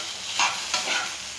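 Food frying in a pan gets stirred with two quick scraping strokes over a continuous soft sizzle, close and moderately quiet, with no voices.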